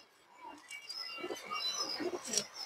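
A colourful pigeon in a loft of Chinese khaki and other fancy breeds coos faintly, with a few soft, low murmuring calls and light rustling in a quiet space.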